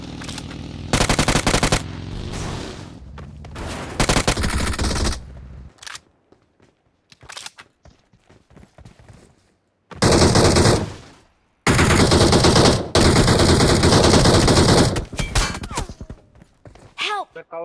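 Bursts of automatic gunfire from a mobile shooting game, loud rapid volleys separated by short pauses and quieter stretches, with a voice calling out briefly between shots.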